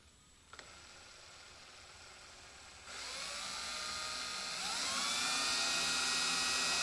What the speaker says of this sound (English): got my holes drilled in my damping rods.